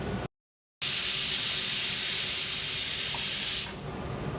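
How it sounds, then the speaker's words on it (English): Dals and grated coconut roasting in a pan give a steady, loud broadband sizzle that holds for about three seconds after a short gap, then drops to a quieter hiss. "add half a cup of grated coconut to it and fry that also"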